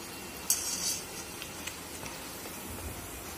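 Potato vadas deep-frying in oil over a medium gas flame give a faint, steady sizzle, with a sharp metallic clink near the start and a few light utensil touches. Quiet and close.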